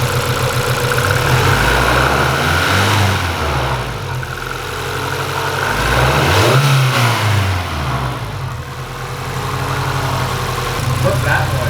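A VW Golf R fitted with a cold air intake revs hard in repeated blips, the engine rising and falling loudly over a steady idle, with voices talking at times.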